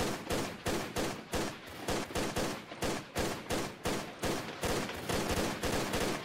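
Rapid gunfire from the Tomb Raider custom level Coyote Creek, a loud, sustained burst of closely spaced shots in regular rhythm with no talking.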